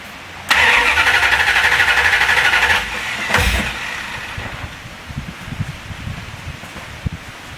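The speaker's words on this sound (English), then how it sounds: "Now we'll crank it with the key, send power to it." A car with a MOPAR ignition module cranks on the key for about two seconds with a loud, rapid whirring churn. A short thump follows, then quieter scattered clicks and rustles.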